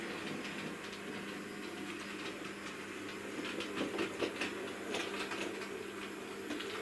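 A Bachmann OO gauge Robinson Class O4 model locomotive runs steadily with a continuous rumbling whir and faint rhythmic clicking, fairly quiet and unbroken.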